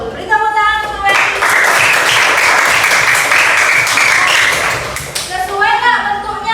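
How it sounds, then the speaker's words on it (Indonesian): A classroom of students claps together for a classmate during a geography lesson, a dense burst of applause lasting about four seconds, loud and close, with a teacher's voice speaking just before and after it. "Beri tepuk tangan untuk Wendy."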